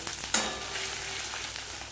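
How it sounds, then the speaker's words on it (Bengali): Ginger paste fries in a pan with a steady, dense sizzle, and a brief stirring clatter comes early on. No one speaks. "এইবার এই আদা বাটাটা দিয়ে ভালো করে একটু কষিয়ে নেব।"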